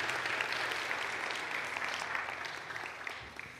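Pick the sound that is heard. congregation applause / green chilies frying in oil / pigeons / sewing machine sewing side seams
congregation applause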